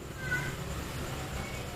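A small cat meows faintly a couple of times indoors, soft thin cries against steady background hiss with no talking.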